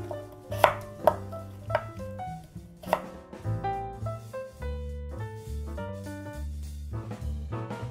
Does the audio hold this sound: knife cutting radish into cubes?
yes